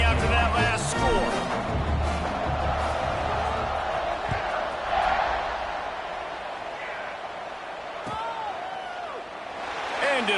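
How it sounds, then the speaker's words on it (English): A large football stadium crowd in Waco roars and buzzes steadily after a 62-yard touchdown run. The dense, continuous cheer swells at the start and end, with a commentator talking over it. "this crowd is buzzing after that last score"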